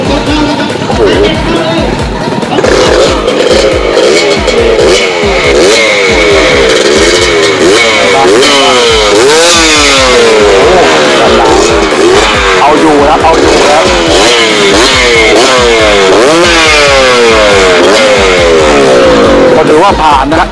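Kawasaki KSR motorcycle fitted with a KR engine, shown at a custom bike contest, running loud and close with repeated revving bursts and a choppy two-stroke rhythm, amid crowd chatter and background noise.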